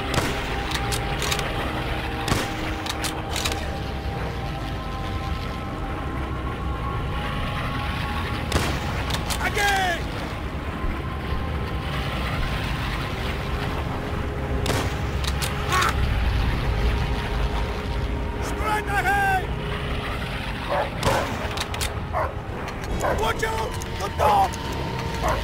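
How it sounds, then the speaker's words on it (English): Rifle shots in Call of Duty: World at War fired beneath a steady drone of passing bomber engines, several sharp cracks and distant booms scattered across the low rumble, with voices speaking over it. "The sound of the engines will drown out your shot."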